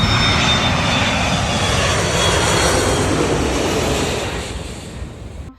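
An airplane flies low overhead at Sunset Bar beach on St. Maarten with a loud, roaring jet engine rush. The roar fills everything at first, then gradually fades as the plane passes.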